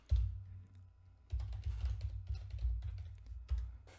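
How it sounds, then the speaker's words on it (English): Keys clatter on a computer keyboard in quick close bursts, a short burst, a pause, then a longer run of rapid typing, with no talking. "Let's go ahead and type that in real quick."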